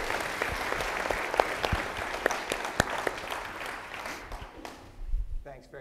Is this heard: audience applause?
yes